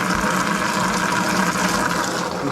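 A pump drives water steadily into a pressurising expansion vessel, giving a continuous loud rushing flow with no breaks and no voices.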